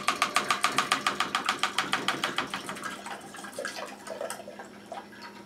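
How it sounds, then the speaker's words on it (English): Juice poured from the container of a Kuvings juicer, starting as a steady run of rapid, rhythmic glugging splashes that gradually slow and fade into scattered, softer drops near the end, close by with no talk. "So let's go ahead and carefully pour this out."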